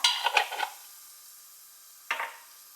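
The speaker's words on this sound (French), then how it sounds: "On vient mélanger les épices dans l'huile afin qu'elles soient bien torréfiées" Spices being stirred in hot oil in a pan, with a few quick metallic scrapes and clinks of a utensil against the pan, a pause, then one more scrape; close and fairly quiet.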